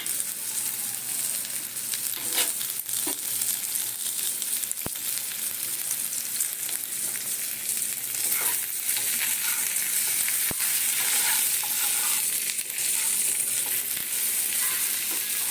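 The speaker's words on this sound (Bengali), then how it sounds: "এটাকে সুন্দর করে ভেজে তুলে নেবেন" Potatoes fry in a pan with a steady, close sizzle and crackle that holds for the whole stretch, broken by occasional sharp clicks and scrapes from stirring, with no voices.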